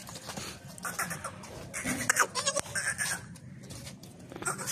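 A nanny goat with a young kid bleats repeatedly at a village farm, loud, close cries in irregular bursts against a busy outdoor background.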